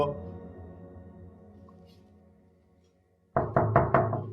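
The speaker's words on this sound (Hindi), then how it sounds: "अरे 10 दफा नॉक किया, खोल ही नहीं रही दरवाजा।" Knuckles rap on a closed door at home in four quick, loud knocks near the end, after a fading tonal music bed and a brief silence.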